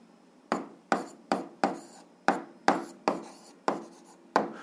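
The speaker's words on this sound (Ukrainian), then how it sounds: "Записуємо відповідь, пишемо відповідь." An answer being written on paper in a 7th-grade algebra lesson, heard as about ten sharp, close tapping strokes at a steady, uneven pace, each one fading quickly into a quiet background.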